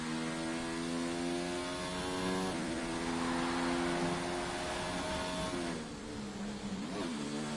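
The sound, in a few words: F2 race car engine on a flying lap, from a video game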